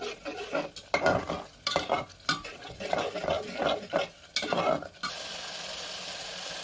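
Spice masala with chili powder for a goat meat curry is stirred in a hot pan, with a series of rhythmic scraping strokes over a crackling sizzle, then a steady, close frying hiss alone once the stirring stops.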